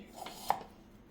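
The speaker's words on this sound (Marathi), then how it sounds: "ड्रायफ्रूटचे तर तुकडे करून झालेले आहेत" Two or three quick knife chops on a board cutting dry fruit, sharp and close, with a quiet room behind.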